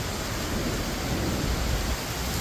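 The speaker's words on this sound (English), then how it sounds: "Is that a storm? A hurricane?" A heavy storm in Naples brings a dense, constant roar of pouring rain and deep thunder rumbling underneath, loud and unbroken from start to end.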